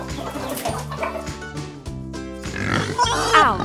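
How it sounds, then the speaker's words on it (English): Cartoon hens clucking in short, busy bursts while feeding, over a steady musical backing, fairly close and moderately loud. "The hens are having their food."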